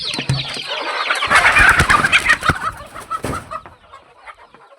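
Hens on a small poultry farm cluck and squawk in a busy, overlapping burst, close and loud at first, then thinning to sparse, fainter clucks.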